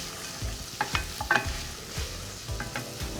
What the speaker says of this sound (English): I need enough to fry the onion